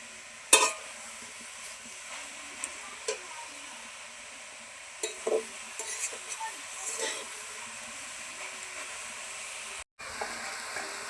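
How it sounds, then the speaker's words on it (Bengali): Salted greens boil in a pot on a home stove: a soft, steady bubbling hiss with a few sharp clinks near the start and middle, quiet throughout. "শাকটা সিদ্ধ করতে বসিয়ে দিব। লবণ দেব। লবণ দিয়ে ভালো করে সিদ্ধ করে নেব।"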